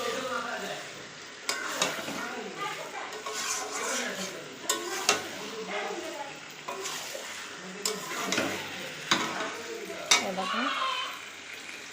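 Chicken pieces sizzle and fry in a pan, releasing their own water, while a utensil stirs them with steady scraping strokes and sharp clinks; a voice speaks briefly over the close, continuous cooking noise.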